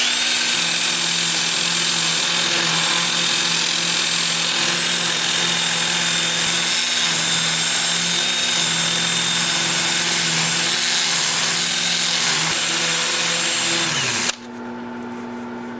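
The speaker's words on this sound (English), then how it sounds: "I will switch to my 2-inch disc sander with 80 grit on it, and I'll work up through 400" A 2-inch disc sander with 80-grit paper sands a wood-turning piece on a lathe. It makes a steady, close, high whine that holds for about fourteen seconds and then cuts off, leaving a quieter hum.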